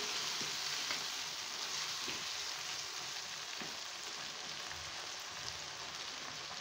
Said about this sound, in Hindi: चिकन डाल के अच्छी तरह से मिक्स करेंगे।